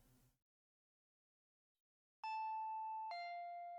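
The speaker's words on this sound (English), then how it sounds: "The bell continued to ring at regular intervals." A doorbell chime in the horror visual novel Higurashi When They Cry sounds twice in quick succession after a moment of silence, each clear two-tone ding ringing out and decaying, fairly loud and alone.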